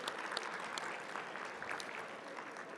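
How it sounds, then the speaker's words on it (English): An audience at a business forecast forum applauds its sponsors with steady, dense clapping that stays even throughout, heard faintly at a distance with no voices over it. "Would you please give a round of applause to our wonderful sponsors"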